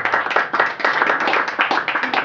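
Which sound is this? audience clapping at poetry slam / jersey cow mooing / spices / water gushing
audience clapping at poetry slam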